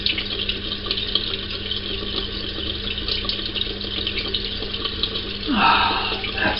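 Cold tap water runs steadily into a sink during a shave, a continuous hiss that grows slightly fuller near the end as the flow shifts.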